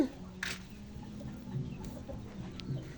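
A chicken clucks softly in short, scattered bursts, faint and somewhat distant, with quiet background noise.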